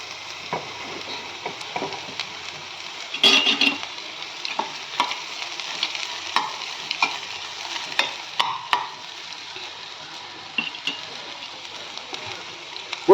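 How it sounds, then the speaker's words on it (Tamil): Onions sautéing in a pan for a home-grown mixed spinach curry, a soft continuous sizzle broken by frequent spoon scrapes and clicks against the pan, fairly close and quiet, no talking. "வெங்காயம் ரொம்ப கருகணும்னு தேவையில்லை, வதங்கினாவே போகிறோம்."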